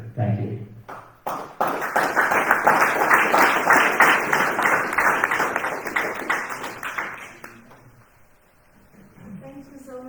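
A conference audience applauds after a talk on forests and biomass, a dense sustained clapping that swells after a brief pause, then fades out toward the end, when a voice starts speaking.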